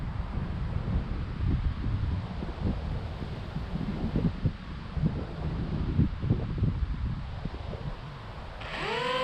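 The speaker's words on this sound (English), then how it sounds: "The wind's from behind me now, it's sort of swirling around a bit" Gusty, swirling wind buffets the microphone at an outdoor flying field for remote-control model planes, a continuous loud low rumble with irregular surges that eases slightly near the end.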